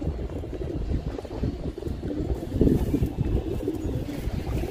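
Pigeons in a loft give soft, low cooing, mixed with faint fluttering and wind noise, fairly close and continuous, with no clear speech.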